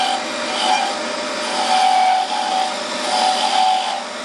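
A spindle gouge cuts a wooden crochet hook blank on a lathe, giving a steady close scraping hiss with faint pulsing as the tool rides the spinning wood, with no voices.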